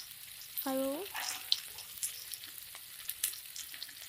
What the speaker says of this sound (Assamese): সেইখিনিতে মই কাটি থোৱা পিঁয়াজখিনি ভাজি ল'ম